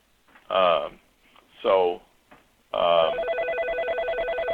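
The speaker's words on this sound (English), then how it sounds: "The other line is ringing in on this." A telephone rings on another line during a phone interview, giving a steady pulsing electronic ring tone that starts after two brief bursts of speech-like sound and continues to the end.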